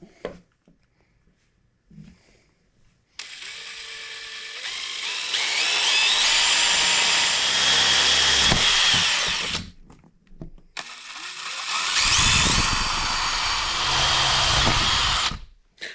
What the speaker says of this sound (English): We'll go ahead and make our first drill.